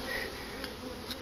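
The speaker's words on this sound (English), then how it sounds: "All these bees that are flying around, since they don't have a box to come back to" Honey bees buzz around an open hive, a faint steady outdoor hum with a few brief louder passes close by near the end.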